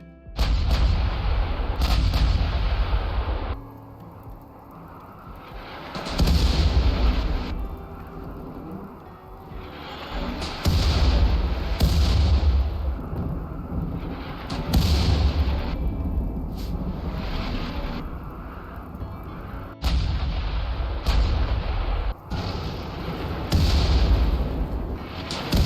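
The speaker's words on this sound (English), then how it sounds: "Those left back at the colony manned the artillery and began the siege of the Imperial base." Artillery fire at a siege of an Imperial base in RimWorld: repeated heavy booming shots roughly every two to three seconds, each with a rumbling tail, continuing throughout with no talking.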